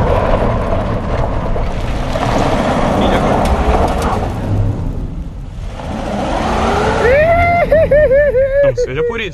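A 4x4 pickup truck drifts with its engine roaring and revving hard, nearby and loud. The engine note climbs and swoops near the end.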